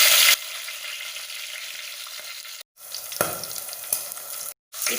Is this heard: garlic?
yes